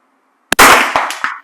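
A rifle shot strikes a steel target at 100 metres on a shooting range, a single sharp crack followed by a ringing metallic clang that fades within a second.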